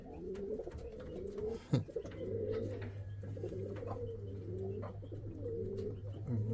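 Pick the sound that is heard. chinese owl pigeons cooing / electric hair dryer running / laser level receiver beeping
chinese owl pigeons cooing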